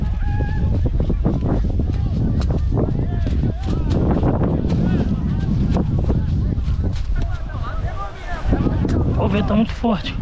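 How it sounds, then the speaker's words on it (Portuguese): Strong wind buffets the microphone at a kite festival in Cabo Frio, a constant loud low rumble under people talking and shouting. "O vento tá muito forte."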